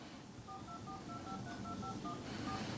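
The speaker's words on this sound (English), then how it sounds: "So I just typed in the phone number" Keypad tones from a Samsung Galaxy A23 phone app as a number is dialed: about a dozen short, evenly spaced beeps in quick succession, fairly close and clear over a faint background hiss, with no talking.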